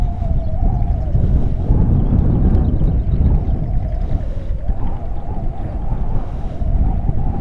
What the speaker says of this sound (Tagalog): Kung naririnig niyo yung hampas ng hangin, napakalamig at napakalakas.